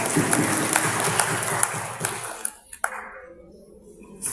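Brief applause at the opening of a teachers' meeting, a small crowd clapping in scattered bursts that quickly dies out, leaving near silence with a few isolated claps.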